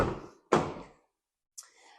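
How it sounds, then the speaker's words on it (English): Passenger door of a 70-plate Renault Trafic campervan opening, heard as two close, solid clunks of the latch and swing followed by a fainter, brief rattle. "So if we open up the passenger door"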